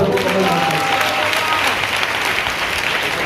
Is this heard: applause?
yes